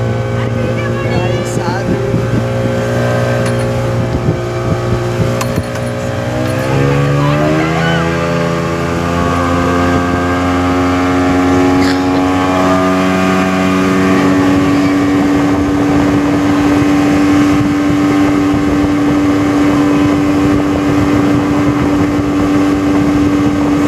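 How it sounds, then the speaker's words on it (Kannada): A speed boat rides out on the Kanva dam reservoir, its engine roaring loud and close. It revs up to a higher, steady drone that runs the whole time with wind and water rush. "ಬನ್ನಿ ಗೈಸ್ ಒಂದ್ಸಲಿ ಸ್ಪೀಡ್ ಬೋಟ್ ಆಡ್ಕೊ ಬರೋದ."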